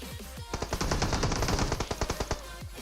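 An UZI fires in PUBG Mobile as one loud, rapid burst of closely spaced shots lasting about two seconds.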